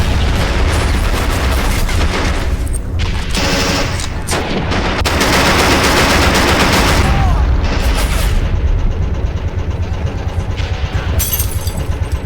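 Dense crossfire of machine-gun bursts and rifle shots with booming explosions in a Men of War: Stalingrad battle, loud and continuous throughout with no pauses, some blasts near and others further off.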